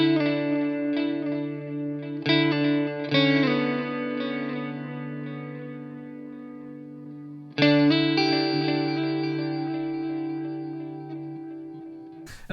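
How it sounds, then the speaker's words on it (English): Guitar chords played through a reverb and tape echo pedal, comparing a Demedash T-120 with a Roland RE-20, ring out through heavy reverb and echo, each strum trailing into long, shimmering decays, with a fresh strum near the middle. "it's like the reverb plus the various kind of tape head kind of styles"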